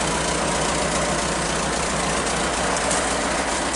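A Ford 550 backhoe engine running at a steady idle, a close, loud diesel clatter with a constant low rumble and no pauses.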